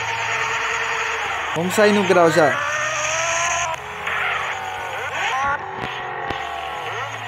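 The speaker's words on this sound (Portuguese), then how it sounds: "Se você gostou dos roncos da moto" A 2017 Yamaha XJ6 with twin exhausts in GTA San Andreas, its engine revving in sharp rising sweeps with brief tire squeal, loud and close while someone talks over it.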